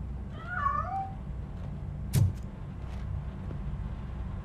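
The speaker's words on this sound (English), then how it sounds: "That cat must be hiding inside." A cat in the game RoboCop: Rogue City gives a single short, wavering meow early on, followed by a sharp thud over a low engine-like background hum.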